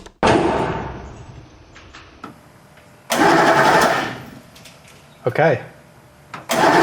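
Humvee engine cranking over with bursts of starter churning separated by quiet gaps, close and loud, with a person speaking briefly between attempts.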